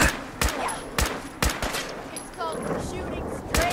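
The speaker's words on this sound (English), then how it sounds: "How am I missing all of these shots?" Rifle gunfire in the video game Fallout 4, a series of sharp, loud shots at uneven intervals roughly half a second apart, with a short gap and faint game effects between them.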